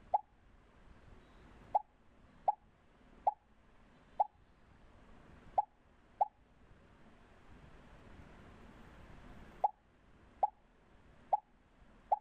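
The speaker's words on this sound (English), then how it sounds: "Now you can hear the popping sound" A cartoonish popping sound effect for a sprite in a Scratch program repeats about a dozen times at uneven intervals. Each pop is short and clear over a faint, quiet background.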